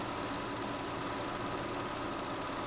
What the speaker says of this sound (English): And here I'm climbing on board a tractor.